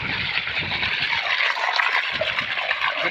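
Water pours steadily out at a village water point, a continuous close gushing flow with no talk over it.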